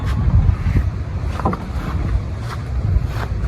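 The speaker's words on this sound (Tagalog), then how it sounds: "Sobrang lakas ng hangin, habagat." Strong monsoon wind buffets the microphone with a continuous low roar and gusty rumbling, loud and close, with no voices.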